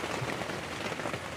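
Rain falls in a dense, steady patter on outdoor surfaces during a tropical storm, loud and close, with no voices and no gaps.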